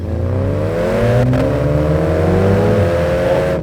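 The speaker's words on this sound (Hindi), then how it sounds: "First has to be exhaust, और इसी वजह से मैंने कहा था कि इसमें म्यूजिक चलाने की जरूरत नहीं है।" A Mini Cooper JCW revs hard, its exhaust note rising steadily in pitch with a brief dip as a gear shift passes, loud and close with no talking over it.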